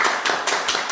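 Clapping from an audience at a lecture: a brief run of about five distinct, evenly spaced claps, fairly loud and close.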